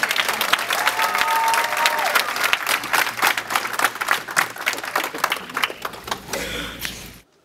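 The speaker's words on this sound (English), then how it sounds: "Can we please have a round of applause for all the students?" An audience claps for students at a school award ceremony, a loud sustained round of applause that thins into scattered claps before fading out near the end.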